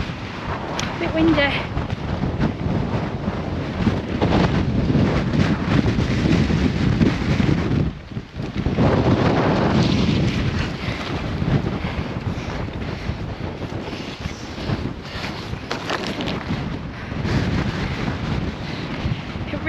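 Strong wind buffets the microphone in continuous loud gusts on a Lakeland 50 ultramarathon trail, roaring and rumbling throughout, with a brief lull partway through.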